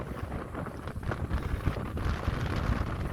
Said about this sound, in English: We're sailing right now on a hydrofoil.